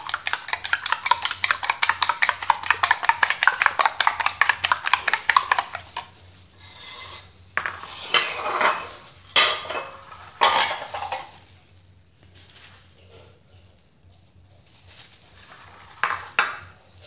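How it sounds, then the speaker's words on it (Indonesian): Eggs whisked loose in a bowl for a chicken roll recipe, a fast steady run of clinking beats for about six seconds, then scattered scraping and clattering of utensils. "Ini telurnya kocok lepas aja."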